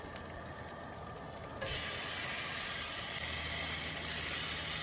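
Steak pieces hit a hot skillet on a portable stove outdoors at an overland truck camp, the soft sizzle jumping to a loud, steady broadband hiss that continues alone to the end.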